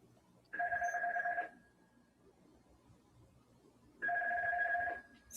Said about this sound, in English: Epstein's phone's ringing as we're watching.